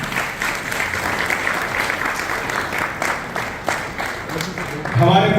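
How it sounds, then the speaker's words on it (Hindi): Sustained, loud applause from a crowd at an inauguration ceremony of a home in Haridwar, steady clapping throughout with a swell near the end, voices murmuring underneath. "हमारे एक बार जोरदार तालियों से सभी लोग"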